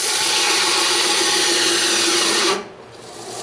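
A BUCKTOOL dual speed belt sander grinder runs on its low speed setting, a loud steady motor whir with belt rasp for about two and a half seconds, then dropping off sharply as the motor slows.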